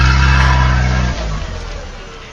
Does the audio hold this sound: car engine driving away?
yes